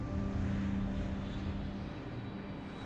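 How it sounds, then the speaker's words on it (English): Aeroplanes fly overhead on approach with their undercarriage lowered, a steady broad engine roar that is loud and continuous and eases slightly toward the end, with no talk. "the aeroplanes open their undercarriage around about now"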